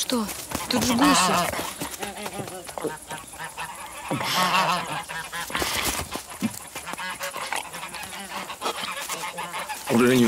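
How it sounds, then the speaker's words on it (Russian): Geese honking in a rural setting from a Russian drama film, several loud nasal honks in bursts, close by, with people speaking between the calls. "Тут же гуси."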